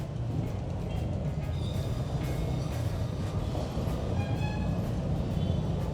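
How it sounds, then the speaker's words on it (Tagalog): A light rail train rumbles steadily past at close range on Rizal Avenue, a continuous low roar with faint metallic squeals rising above it; no voices. "Yan ang LRT oh."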